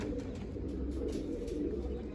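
Low, rolling coos from pigeons sit under a faint scrap of voice, steady and close, around birds being netted.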